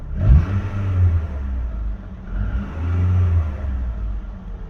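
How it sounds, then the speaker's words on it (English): A Rover 25 K-Series car engine idles close by with a smooth, low rumble, briefly rising with a light rev before settling back. "What about the engine? Listen."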